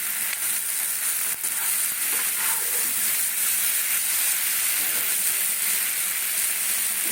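Butter sizzles steadily under button mushroom masala being sautéed in a pan, a dense continuous frying hiss with faint stirring scrapes throughout and no voices.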